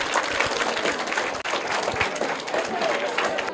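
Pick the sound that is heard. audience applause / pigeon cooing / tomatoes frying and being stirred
audience applause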